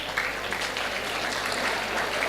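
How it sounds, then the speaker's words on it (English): A large audience claps together at a live education launch event, dense steady applause filling the room from start to finish with no pauses. "Give her a big round of applause."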